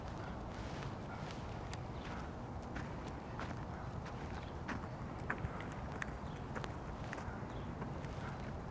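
Hooves of goats being led around a show ring at a Rutgers Day goat handling event, soft scattered clip-clop steps, faint and continuous against a busy outdoor background.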